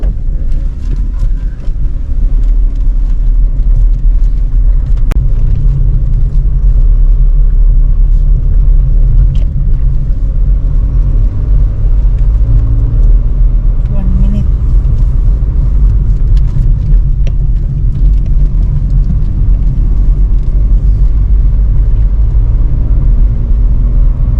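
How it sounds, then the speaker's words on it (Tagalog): Vehicles passing on a road near the Pantabangan Dam complex, a steady loud low rumble with wind buffeting across the whole stretch and no talking. "Hindi, may nakasalubong tayong mga sasakyan eh."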